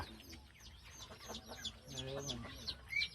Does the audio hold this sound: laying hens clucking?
yes